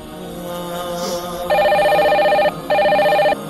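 A telephone rings in two loud electronic bursts, each about a second long with a short gap, over a faint tonal background hum in a Bengali short film scene.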